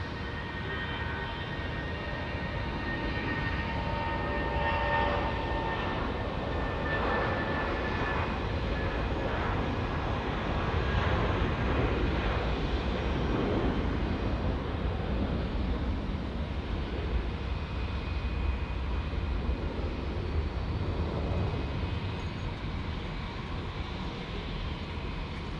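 An Air New Zealand jet bound for Christchurch rolls down runway 23 at Auckland Airport, its engines a loud, steady broadband roar that holds unbroken and swells slightly in the middle of the run.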